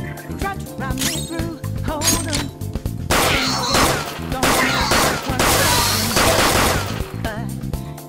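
Repeated gunshots from a gun in the video game Persona 5 Royal, a loud volley of fire over game music with clattering impacts, dense in the middle of the stretch.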